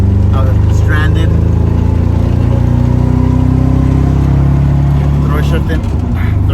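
A manual 1984 Toyota Corolla AE86 hatchback drives with its engine humming steadily and loudly, a low droning tone with rising pitch as it pulls through a gear, heard from inside the car.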